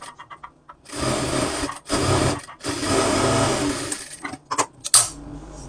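A sewing machine stitches fabric for a kameez, running in several close bursts of whirring with short pauses between, ending in a few quick stop-start clicks and taps.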